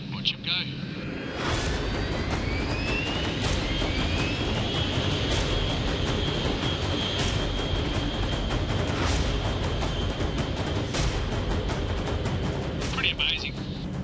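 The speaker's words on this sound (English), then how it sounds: "Takeoff performance for such a large aeroplane to be taking off in such a short distance." A US B-52 heavy bomber takes off on a remarkably short run, its jet engines a loud, continuous roar under a hiss of wind, broken by sharp cracks and bangs.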